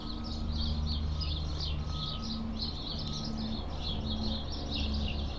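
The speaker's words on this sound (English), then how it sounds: "You can hear the birds." Birds chirp and twitter continuously in a steady, busy chorus over a low background hum of traffic or machinery in a hospital parking area in Toronto.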